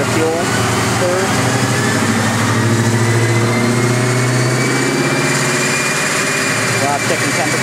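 A Chrysler 300C with a 5.7L Hemi V8 runs on a chassis dyno, its loud, steady engine drone holding and slowly climbing in pitch, close and continuous throughout.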